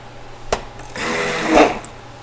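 Immersion blender grinding tomatoes for keto eggplant parmesan, a loud whirring burst of about a second that swells and then cuts off, with a brief knock before it.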